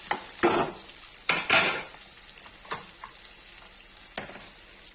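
A spoon scrapes and clanks around a pan as ginger garlic paste is stirred, several sharp metallic strokes at irregular intervals over a faint frying hiss, close and fairly quiet.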